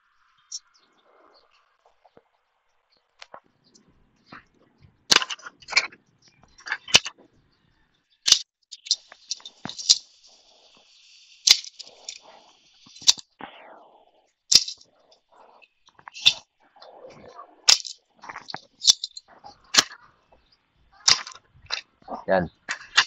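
Shots fired from a gun loaded with a quick reload speed loader: a series of sharp, loud bangs at irregular intervals, several in quick bursts, with quieter mechanical clicks and short gaps between them and occasional faint voices.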